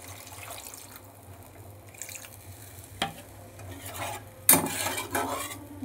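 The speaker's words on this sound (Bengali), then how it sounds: "এবার আমি জল দিয়ে দিচ্ছি এর মধ্যে" Water is poured into a kadai of fried spice paste for a boal fish kalia curry, a brief rushing splash with light clinks and stirring scrapes around it.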